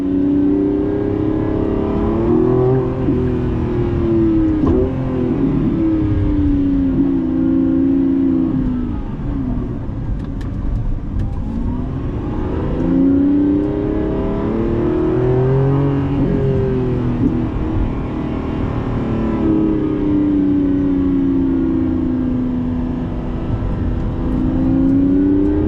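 A 2025 Lamborghini Revuelto V12 roars steadily and loud from inside the cabin, its engine note rising and falling through repeated pulls as the car accelerates hard, with no talking.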